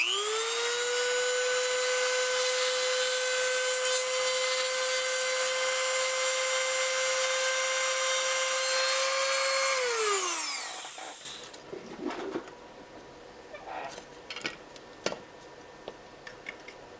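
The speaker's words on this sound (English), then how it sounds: "With this Dremel, you want to make sure you're holding it real good, and you would just shaving" A Dremel rotary tool whines steadily at high speed as it shaves plastic from a Game Boy Color toy shell, then spins down near the ten-second mark, leaving soft handling clicks and taps.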